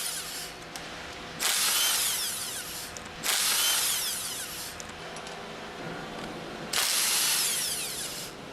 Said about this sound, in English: Use the impact wrench with a 10mm hex drive attached to remove the remaining 6 retaining